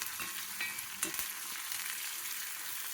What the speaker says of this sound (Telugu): ఈ పోపు ఎర్రగా వేగాలండి